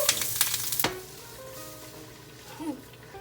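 Onions dropped into a hot pan for marinara sauce, a burst of sharp sizzling and a clatter up front, then a softer steady fry continuing underneath.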